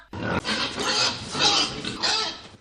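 White pigs on a breeding farm grunt and snort continuously, a loud, close, rough chorus of overlapping grunts with no clear pauses.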